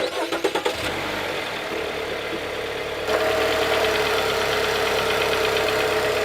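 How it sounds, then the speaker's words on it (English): A Fiat gasoline engine cranks briefly with a few rapid chugs, then catches and runs at a steady idle with a busy metallic clatter from the valves, loud and close, the idle rising slightly near the middle, with no talking. "When you start it up, you can hear the valves clanging, clattering."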